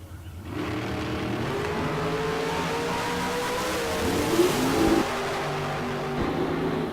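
Drag race cars roar down the strip at Tucson Drag during the K&N Southwest Showdown, a loud sustained engine wail that swells and peaks mid-run before holding steady, with no talk over it.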